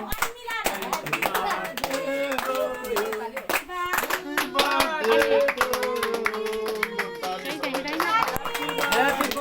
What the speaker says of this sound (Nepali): सबैले ताली बजाउँदै क्ल्याप गरे